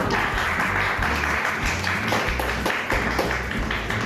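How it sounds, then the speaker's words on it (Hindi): A crowd at a Swami Vivekananda yoga centre celebration claps loudly and continuously, with a close, busy patter of hands over a steady low hum. "तालियां बजाओ जोर से"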